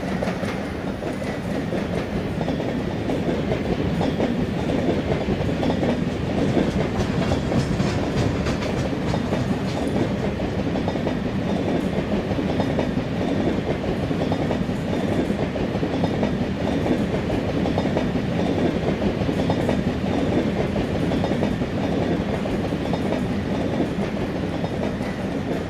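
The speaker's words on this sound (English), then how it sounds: "Hassan Nizamuddin to Rajdhani Express is just overtaking our train right now." A Rajdhani Express overtaking a diesel train in an Indian Railways train simulator game, a steady loud rumble of wheels on rails with continuous clickety-clack running alone throughout.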